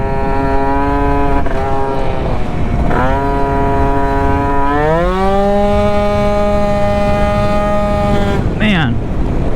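Aprilia SR50 scooter fitted with a Malossi RC1 kit, its small two-stroke engine revving loud and close with rising, falling whine, steady pitch climbs and a quick drop near the end.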